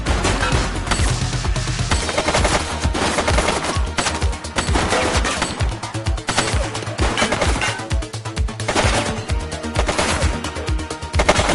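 Rapid gunfire rattles in the police video game The Precinct, dense bursts of automatic shots stacked with sharper single cracks, loud and continuous throughout with hardly a pause.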